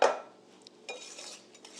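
Brownie batter being mixed in a bowl, with a utensil scraping and clinking against the bowl: a sharp knock at the start, then soft intermittent stirring scrapes close by.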